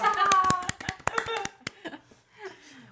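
A single person claps hands in a quick run of sharp, close claps that trail off, while people talk and a voice and light laughter come through around them.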